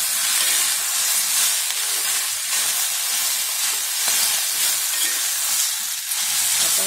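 Okra poriyal frying in a pan, a loud, constant hissing sizzle with occasional stirring scrapes mixed in, close by and uninterrupted, with no voices.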